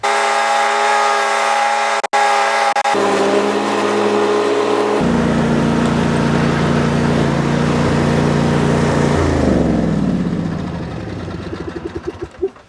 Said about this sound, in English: just mow the lawn and blow the grass clippings out and let them set there